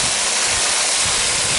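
An aerator pipe bubbles air into a tilapia tank, giving a loud, steady rushing hiss of churning water with no pauses.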